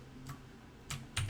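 A few quiet taps on a computer keyboard, three isolated keystrokes spaced irregularly against a low background hum.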